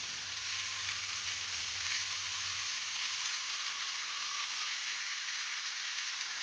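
Mint chicken gravy frying in a pan gives a steady, close, hissing sizzle throughout, with a faint low hum fading in the first half and no talk.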